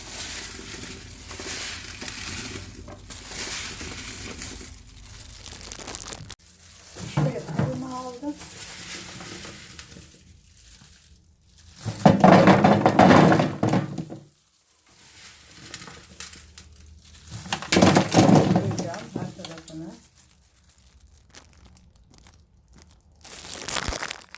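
Salted black olives are stirred in a container and tipped into bottles, giving bursts of wet rattling and crinkly clattering that come and go between quieter stretches, with someone speaking over parts of it.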